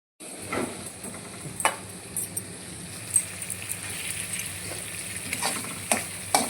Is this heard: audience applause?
no